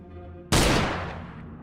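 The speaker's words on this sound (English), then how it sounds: "let's shoot this guy" A single sharp gunshot in the indie horror game Dead Format, loud and close, with a decaying tail after a short quiet lead-in.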